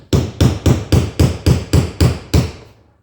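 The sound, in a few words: heavy hammer striking a punch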